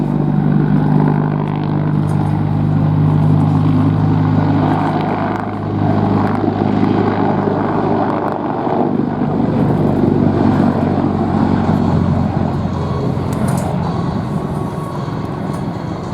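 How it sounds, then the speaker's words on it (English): A loud, continuous rotor and engine roar from a CH-53E Super Stallion heavy-lift military helicopter at an air station airshow, shifting slightly in pitch as it holds steady nearby. "It is the premier heavy lift helicopter for the Department of Defense."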